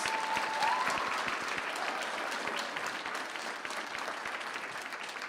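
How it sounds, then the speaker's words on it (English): Sustained applause from a large crowd at a high school graduation ceremony, steady and dense throughout with a faint tonal whistle near the start and no speech over it. "Let's give them a big round of applause."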